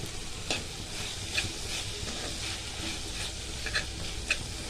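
Spices with ginger stirred and frying in a pan for a bitter gourd vegetarian dish, a constant close sizzle with periodic scraping strokes of the spoon.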